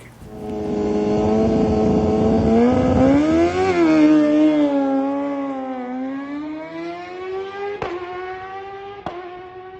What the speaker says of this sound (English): Watch Mike ride this bike